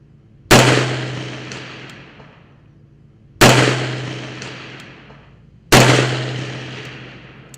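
Three loud, close gunshots fired from behind a barricade on a shooting range, evenly spaced, each a sharp crack with a long ringing decay.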